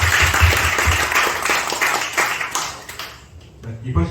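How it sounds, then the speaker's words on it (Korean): Sustained applause from a seminar audience, steady clapping filling the room, tapering off toward the end as a voice begins. "박수 부탁드립니다."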